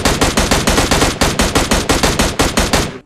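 Rapid automatic gunfire from a video game gun, a steady stream of about fifteen loud, evenly spaced shots that stops abruptly at the end.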